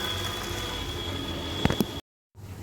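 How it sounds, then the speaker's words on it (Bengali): Gokul pithe frying in hot oil, giving a close, steady bubbling hiss with a couple of brief louder crackles before it cuts off abruptly and then resumes. "আমার গোকুল পিঠাগুলো ভাজা হয়ে গিয়েছে।"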